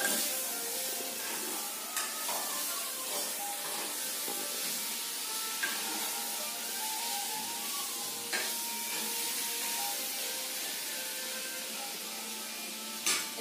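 Sliced potatoes and onion fry in a pan, giving a soft continuous sizzle with occasional stirring scrapes and clinks. It stays fairly quiet and even throughout, with no talking.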